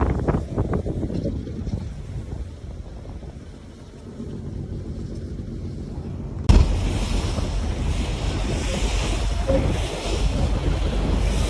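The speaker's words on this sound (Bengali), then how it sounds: "বালুর ট্রলার যাচ্ছে বালু নিয়ে, এগুলো হচ্ছে সব বালুর ট্রলার।" Steady wind and choppy river water heard from a launch cabin while sand-laden trawler boats pass on a river near Dhaka, a broad continuous rush that drops briefly, then returns louder and brighter after a sharp bump.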